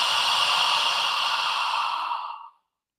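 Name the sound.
deep belly breath out, breathing exercise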